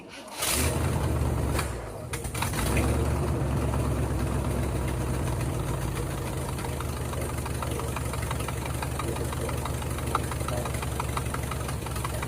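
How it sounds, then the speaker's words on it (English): Engine of an old U-Haul F-350 truck with a mechanical fuel pump, unrun for about a month, cranking briefly, catching, then settling into a loud, steady idle with a rhythmic knocking pulse. "we're gonna cross our fingers and crank on the key for a little bit and see what happens"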